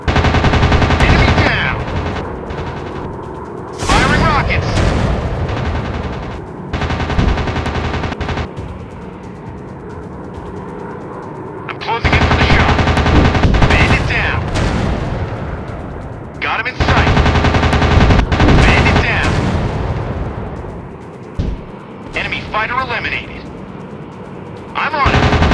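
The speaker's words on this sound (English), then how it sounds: "Firing rockets!" Aircraft rockets and guns fire in the Warplanes WW2 Dogfight game. Loud, dense bursts of rapid gunfire and rocket launches come in several long volleys with short lulls, and a voice talks at times.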